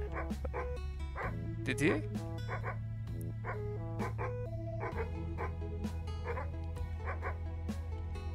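A dog barks and yips repeatedly in a horror video game, its calls rising over a constant low musical drone, with a voice talking briefly.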